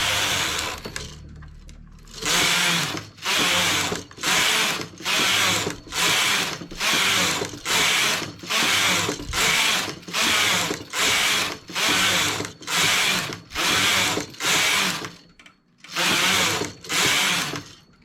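A domestic knitting machine carriage is swept back and forth across the needle bed, knitting rows of a newborn baby's hat, giving a steady series of about fifteen loud, rasping mechanical passes separated by brief pauses.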